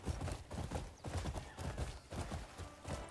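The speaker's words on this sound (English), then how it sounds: "I'm just pressing forward on the analog stick, and the horse slowly comes back down to a trot" A horse in a video game trotting with steady, even clip-clop hoofbeats, moderately faint and continuous, with no talk over it.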